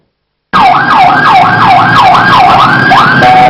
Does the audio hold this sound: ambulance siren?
yes